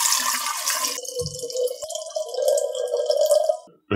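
Water is poured into a container while making fruit kefir, a bright rushing splash at first that settles into a steady trickling fill, with a brief knock partway and the flow stopping abruptly at the end.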